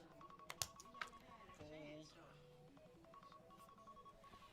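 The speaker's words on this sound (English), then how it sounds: "that's somebody's phone on the stream" A mobile phone ringtone goes off among spectators at a live-streamed no-limit hold'em poker tournament, a repeating tonal melody sounding moderately close over room murmur and a few sharp clicks.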